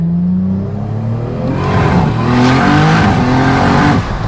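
A 2JZ-swapped Nissan S15 Silvia with an 8HP70 automatic accelerates hard at part throttle in second gear, its engine note rising and dropping through early shifts, loud and close throughout.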